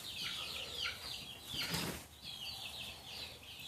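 Young chickens under netting in a backyard pen, with rustling and a burst of wing flapping mid-way among soft high-pitched cheeps and clucks, fairly close and continuous, no talk.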